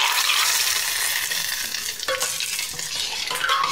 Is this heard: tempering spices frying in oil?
yes